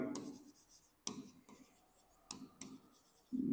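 A marker or chalk scratches across a board as a journal entry is written, giving several short separate strokes with quiet gaps and a faint murmur between them.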